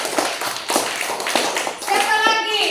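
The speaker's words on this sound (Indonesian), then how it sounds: "Tepuk tangan untuk teman kita yang satu ini." Schoolchildren clap in a classroom, a dense, uneven patter of small hands that carries on steadily beneath overlapping children's voices.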